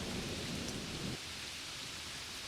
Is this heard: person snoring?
no